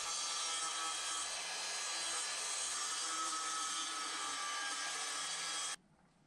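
A saw cuts steadily through wood for tiny-house kitchen cabinets, a loud, continuous rasping drone held nearly constant for several seconds, then stopping abruptly with no voices.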